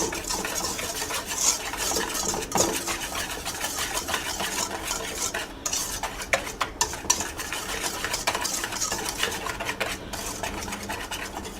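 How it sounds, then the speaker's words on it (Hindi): Dry ingredients for fried fish batter whisked in a bowl, a busy, continuous scraping and clinking of the whisk against the sides, close and fairly loud with no talking. "एक विस्क के ज़रिए हम उसको बहुत अच्छी तरीके से मिक्स करेंगे।"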